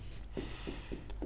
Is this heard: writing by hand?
yes